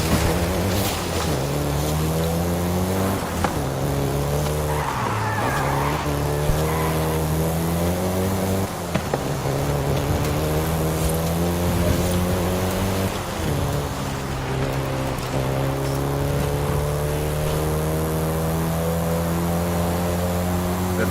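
Volkswagen Golf GTI driving in Forza Horizon 5, a steady, loud engine drone with harmonic revving that holds throughout, rising and dipping slightly with gear changes.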